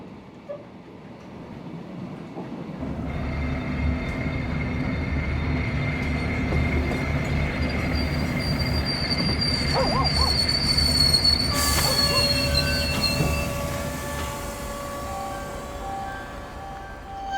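A passenger train slows toward a halt, with a loud continuous rumble and rising, sustained high metallic wheel squeals that swell and shift before easing off as the train comes to a stop.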